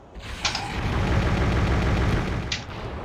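A tank being blown up in Turok Evolution: a loud sustained blast with rumbling, crackling noise building for about two seconds then easing, close and alone.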